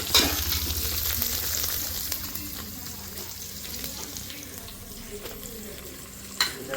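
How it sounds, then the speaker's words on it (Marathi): Chopped coriander fries with browned onion in a pan for a mutton dish, a loud close sizzle with occasional stirring scrapes and a sharp clink near the end. "त्याच्यामध्ये आता कोथिंबीर टाकूया. टाकून त्याला पण थोडंसं 2 मिनटं फक्त लालसर करून घ्यायचं."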